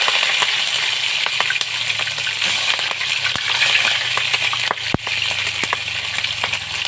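Steady loud sizzling of food frying in a pan, continuous crackle and hiss close by, with occasional clinks.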